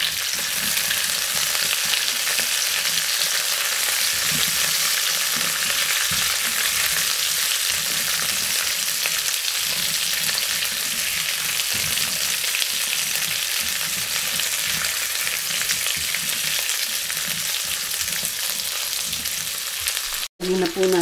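Onion and pork stir-fry in a hot wok, a loud, dense sizzle with scraping stirs that holds steadily for about twenty seconds, close and without talk, cutting off sharply near the end.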